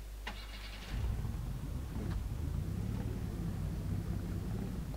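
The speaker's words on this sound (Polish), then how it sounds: "Odpal silnik." A car engine starts in the video game Stalker Lost Alpha, a short crank followed by a steady, low idling rumble that continues to the end.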